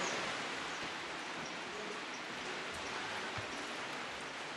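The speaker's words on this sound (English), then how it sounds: "You can see the rain hitting the ocean and the water" Steady rain falls on the open ocean during the rainy season at Ambon, a dense, even hiss of drops on water that stays constant throughout with no voices.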